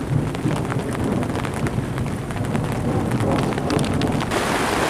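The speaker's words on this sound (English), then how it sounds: "as you can tell, it's still raining." Heavy rain falls steadily on a campsite at the Santa Fe Trail Rendezvous in Raton, New Mexico, a dense, constant hiss with gusty buffeting and no breaks.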